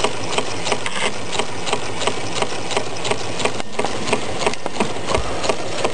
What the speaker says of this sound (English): See the little brass wheel being rocked backwards and forwards by the mechanism.